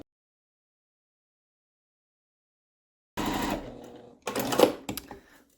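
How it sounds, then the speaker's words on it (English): A sewing machine chain-pieces quilt rows, running in a couple of short, close bursts of rapid stitching separated by a pause, after a long stretch of silence. "Just like we chain pieced our blocks together, we can also chain piece our rows together."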